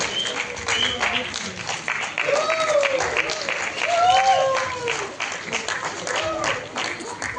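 An audience at a Tamil film music launch event for Rajini Gang applauds throughout, a moderate crowd clapping under overlapping voices and shouts.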